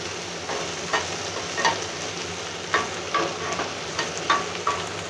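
Garlic and tomato sautéing in a pan for stuffed okra, a steady sizzle broken by regular scraping stirs about once a second, close and alone.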